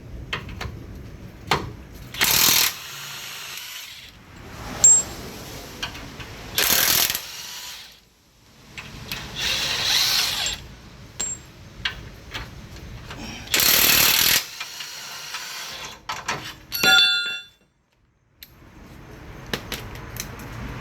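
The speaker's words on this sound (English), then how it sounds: "There'll be 1 bolt here and 2 here on the sides. They're 18 millimeter. Go ahead and remove them." An impact wrench pulls 18 mm factory tow hook bolts on a Jeep Wrangler JK in several short, loud bursts separated by quieter handling clinks and rattles, close by and with no speech.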